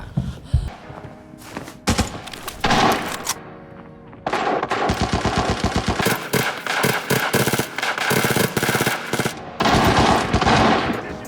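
Gunfire in the video game Arena Breakout, including an MPX, with loud rapid automatic bursts and scattered single shots that go on and off in clusters throughout, nearly alone with little talk.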